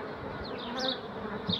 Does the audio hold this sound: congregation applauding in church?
no